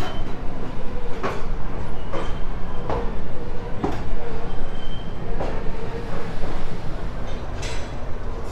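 The Belagavi Express on a Bangalore rail line gives a loud continuous rumble with regular clickety-clack beats from the wheels, close and steady throughout.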